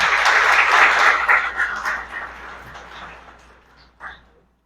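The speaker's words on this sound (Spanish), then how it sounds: "le brindamos un fuerte aplauso." Applause from a seated audience at a book launch welcoming a guest to a panel, loud and full at first, then thinning and fading over several seconds, with a few last scattered claps near the end.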